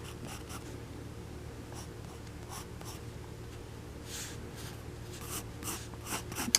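A pencil sketches loose figures on a paper pad, giving a steady quiet scratching with short stroke bursts, close and alone.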